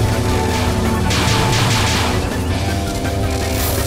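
A bomb blast in a Touhou bullet-hell video game: a dense, continuous wash of booming, crackling explosions and rapid shot effects, loud and sustained throughout.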